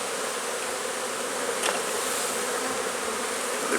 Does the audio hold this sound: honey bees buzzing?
yes